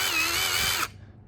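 A worn-out old cordless drill fitted with a new battery whines at high pitch for under a second, wavering slightly, then cuts off and its faint mechanical rundown trails away; close by, no voices.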